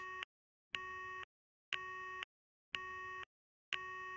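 Repeated electronic hang-up beeps from a phone call in the Steins;Gate video game, five even tones pulsing about once a second with silent gaps, clear and alone.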